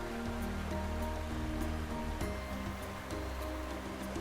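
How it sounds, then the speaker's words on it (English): Waterfall Bluff on the Wild Coast, where water drops nearly 200 feet down a cliff, gives a constant, broad roar of falling water under a musical score, steady from start to finish. "here the water cascades down a near 200-foot drop"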